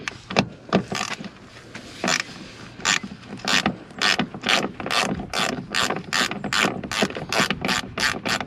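A ratchet wrench clicks in repeated bursts while removing a seat from a 2016 Ford Transit Connect van, the strokes close and crisp and speeding into a quick, regular rhythm toward the end.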